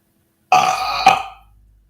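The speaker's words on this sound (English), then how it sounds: "I love a good burp." A single loud, close burp that rumbles for about a second with a brief louder kick near its end, then trails off into silence.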